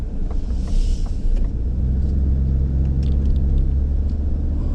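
A 2021 Ford F-150 PowerBoost hybrid pickup with a 10-speed automatic builds speed, its deep steady rumble of engine and road noise heard from inside the cab, constant and fairly loud with no talking.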